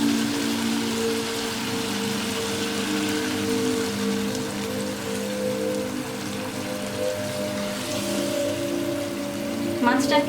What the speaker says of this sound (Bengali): একটু পানি দিয়ে দিচ্ছি।